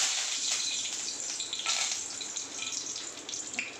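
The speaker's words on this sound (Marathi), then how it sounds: "आता टाकते कढीपत्ते." Curry leaves dropped into hot oil in a pan while cooking a potato and capsicum curry, giving a steady, fairly loud hiss and crackle that runs throughout without any talking.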